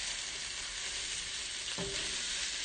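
Vegetables sizzle in hot oil in a pan, a steady broadband frying hiss with a soft stir or scrape midway, close and continuous with no voices.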